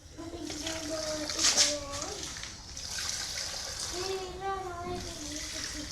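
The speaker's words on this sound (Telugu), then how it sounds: "కొద్దిగా వాటర్ అయితే పోసేస్తున్నాను" Water pours and splashes close by in short bursts onto potted rose plants while a voice talks over it.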